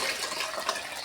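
Boiled tempering with curry leaves is poured into cooked dal, a brief, soft liquid gush and splash close by, with no talk over it.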